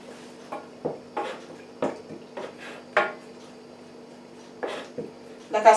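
A wooden spoon knocks and scrapes against a pot as ingredients melt together over low heat, giving a few scattered, soft clunks with quiet pauses between them.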